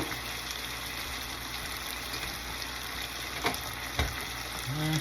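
Chicken soup with gravy simmering on a stove burner turned down low, giving a steady, faint bubbling hiss with a couple of soft pops and a brief clink near the end.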